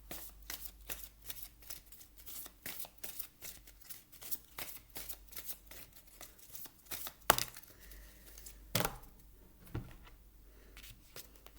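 Oracle cards are shuffled in a steady run of quick, crisp riffling flicks for about seven seconds, then a few separate louder slaps and rustles as cards are drawn, close and fairly quiet, with no voice.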